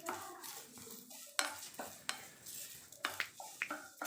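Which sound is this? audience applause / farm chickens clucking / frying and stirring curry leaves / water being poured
frying and stirring curry leaves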